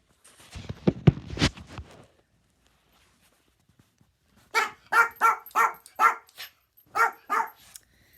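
A dog barks in a quick run of sharp, evenly spaced barks, loud and close, after a short quiet gap following some earlier shuffling noise.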